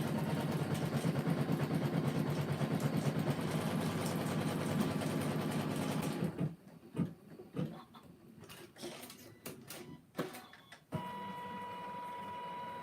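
A Janome Continental 17 sewing machine with a giant 12x19 hoop runs in a steady, loud, continuous whir for about six seconds, then stops, followed by scattered clicks and handling knocks.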